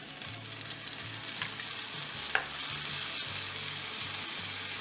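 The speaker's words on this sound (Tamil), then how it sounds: "இஞ்சி பூண்டு பச்சை வாசம் போகிற வரைக்கும் நல்லா வதக்கிக்கலாம்" Steady, close sizzling of ginger garlic paste frying in a hot pan, a continuous crackle with a brief scrape of stirring partway through.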